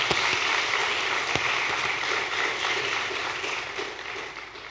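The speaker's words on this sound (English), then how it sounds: "Let us salute them with a resounding applause." A school audience at a secondary school speech day gives students sustained applause, a thick, even wash of many hands clapping that fades slightly toward the end.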